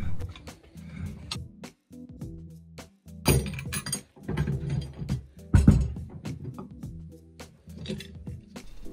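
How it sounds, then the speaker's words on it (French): Metal clicks, clinks and ratcheting knocks in an irregular series, with two louder clattering bursts, as an Easy Boost size 60 holding wrench is fitted to tighten the variator nut on a BMW C600/C650 scooter. "on place la clé Easy Boost de taille 60 pour serrer l'écrou"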